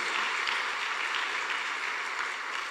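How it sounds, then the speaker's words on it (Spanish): Steady, dense clapping from a church congregation at Mass, continuous and fairly loud throughout with no voices standing out. "Con un fuerte aplauso le decimos gracias."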